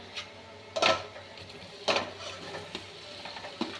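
Boiled, cut potato pieces are stirred in a frying pan with garlic, giving two distinct scraping sweeps of the utensil against the pan, then lighter scrapes over a soft background sizzle.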